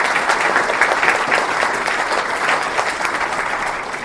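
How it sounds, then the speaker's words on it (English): An audience at a lecture event claps steadily, a dense wash of applause that holds fairly even throughout and tapers only slightly toward the end. "Let's clap."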